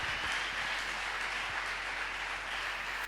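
A church congregation claps and cheers in a steady, dense wash of applause over a low hum, sustained throughout.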